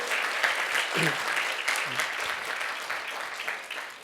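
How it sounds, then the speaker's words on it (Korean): A church congregation claps loudly to welcome a young guest drummer, the applause fairly close and continuous, with brief voices mixed into the clapping. "인사하고 들어갈 때 박수 한번 크게 쳐주세요"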